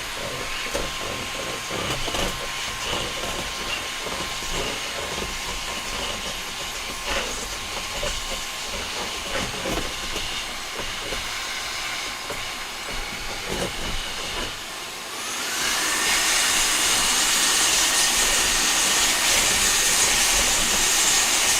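A compressed air duster blows dust out of a PC case. A steady rushing hiss runs throughout and turns louder and brighter partway through as a stronger jet kicks in.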